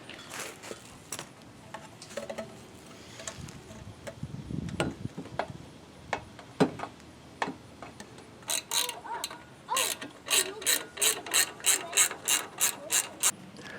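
A ratchet tightens intercooler pipe clamps on a turbocharged Honda Civic, with scattered clicks and knocks first, then a fast, regular burst of close ratcheting clicks toward the end, no talking.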